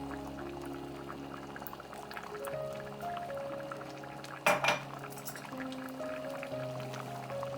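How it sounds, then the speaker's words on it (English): Cornstarch-and-water slurry poured into a pot of pulled pork gravy, with soft clinks of a spoon against the pot, a brief louder clatter midway, and quiet stirring throughout. "I'll pour this into the pot, and it'll create a smooth and thick gravy."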